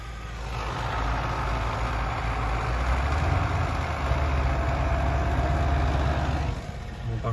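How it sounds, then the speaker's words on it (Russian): A powerful Russian tractor clearing snow on a rural road runs steadily, its heavy low engine drone constant and fairly close before easing slightly near the end. "Русский трактор, мощный"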